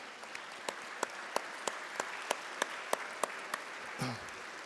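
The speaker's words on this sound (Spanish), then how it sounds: "¿Les damos otro aplauso mientras se retiran ellos?" Faint audience applause at a lesson study session as students from Liceo Bicentenario de Valparaíso leave, a soft, even patter broken by a few sharper, regularly spaced claps, with a brief murmur near the end.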